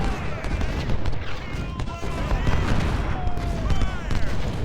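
Infantry musket volleys in the Civil War strategy game Ultimate General at Chancellorsville, a continuous rolling crackle of massed gunfire with booming reports, loud and steady throughout, with what sounds like a voice faintly underneath.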